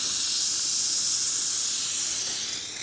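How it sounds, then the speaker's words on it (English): The steam wand of an Expobar espresso machine gives off a steady, loud, bright hiss that holds constant for almost three seconds before tapering slightly at the end. "Guess we could do some steam too while we're at it."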